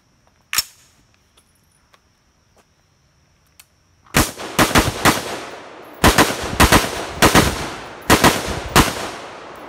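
Unsuppressed rifle fire, 5.56 or 300 Blackout, on an outdoor short range: one sharp shot, a few faint ticks, then rapid strings of loud cracking shots in bursts, close and dominant.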